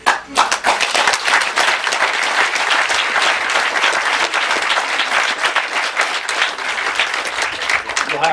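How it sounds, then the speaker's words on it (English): An audience at a political speech in Nicholasville, Kentucky, breaks into loud, sustained applause, many hands clapping steadily for several seconds with occasional voices mixed in. "You'll have to hold your applause, it's a long quote."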